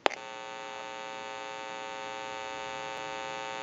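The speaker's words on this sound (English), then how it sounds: "you may hear a little bit of a staticky or electrical hum" A steady electrical hum from an amplifier in an AT&T wooden wall crank telephone drones on with a faint buzz, opening with a brief click and staying even and close throughout.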